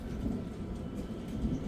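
Low thunder rumbling continuously from a violent thunderstorm over Pfastatt, a steady distant roll with faint rain hiss and no voices.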